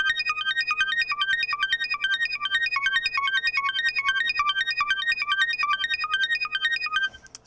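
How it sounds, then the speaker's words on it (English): A bright Memorymoog analog synth arpeggiator cycles rapidly and evenly through the same short note pattern, steady and unaccompanied, stopping abruptly near the end. "It's kind of a cool arpeggiator there,"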